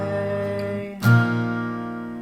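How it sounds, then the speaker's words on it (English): Electric guitar chords strummed once each, ringing out at the end of a song section, one held chord fading before a single fresh strum that sustains and decays, close and alone. "So all it is the same chords but strummed once."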